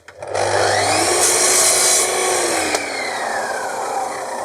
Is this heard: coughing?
no